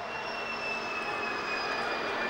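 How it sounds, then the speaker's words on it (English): A Harvard trainer aircraft flies past at the Biggin Hill air display, giving a steady, moderately loud engine drone with a sustained tonal whine held across the whole stretch. "showing us what a delightful and manoeuvrable aircraft the Harvard is"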